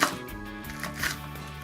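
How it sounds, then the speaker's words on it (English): A small knife slices green onions into little rolls on a cutting board, giving a couple of quick, close chopping taps over a short stretch with no talk. "And I just cut them into little rolls, little slices."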